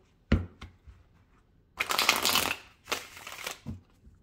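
Tarot cards shuffled and cut by hand: a couple of quick taps, then two bursts of riffling and sliding cards, close and fairly quiet with brief pauses between.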